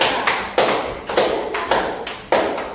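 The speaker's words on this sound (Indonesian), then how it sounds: "Oke, beri aplaus untuk kelompok 2." A class of schoolchildren claps for group 2 in a steady, rhythmic pattern of sharp hand-claps roughly every half second, close and fairly loud, with no talking.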